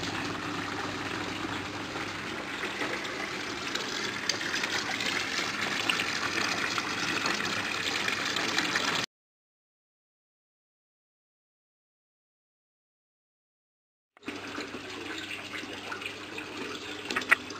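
Water gushing steadily as an aquaponics bell siphon drains a grow bed, a constant loud rushing flow that cuts to silence, then resumes.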